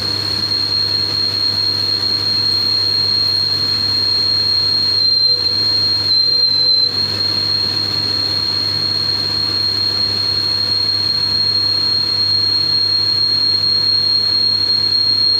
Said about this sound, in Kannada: ಓಕೆ, ಈಗ ಓಡುತ್ತೆ. ಅಂದರೆ ಪ್ಲೇನ್ ಟರ್ನಿಂಗ್ ಆಪ್ರೇಷನ್ ಆಗುತ್ತೆ.